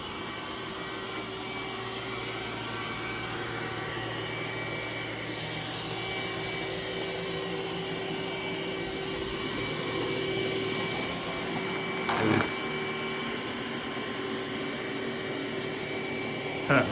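An iRobot Roomba S9+ robot vacuum with a self-emptying bin drones steadily on carpet and hardwood, its suction motor a continuous hum with a brief clunk near the end.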